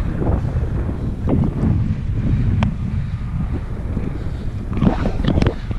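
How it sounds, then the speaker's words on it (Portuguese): Strong wind blowing across a sandy roadside area near a highway gas station, a steady loud rush buffeting the microphone with no talking. "O vento sobe a areia."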